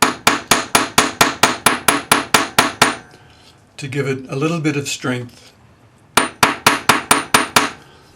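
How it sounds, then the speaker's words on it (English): A shiny planishing hammer strikes a wire spiral on a steel block for earrings in a fast, even run of about a dozen sharp ringing blows. A voice speaks briefly, then another quick burst of strikes follows. "We're going to use a planishing hammer, which is just a nice shiny hammer,"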